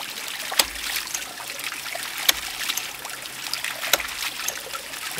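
Water flowing from a ram pump into a tank: a continuous close trickling, splashing flow, with sharp rhythmic clicks or knocks recurring about every one and a half seconds.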